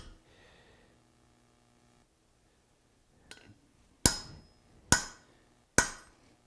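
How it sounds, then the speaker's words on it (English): Three loud, sharp hammer blows on red-hot metal at a forge, evenly spaced with ringing decay, following a few quieter taps and near silence. "Hammer this down"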